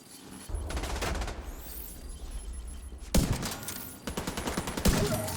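Gunfire in the shooter video game The Division 2: rapid bursts of automatic shots and a clatter of rounds, loud and close, with a brief lull between volleys.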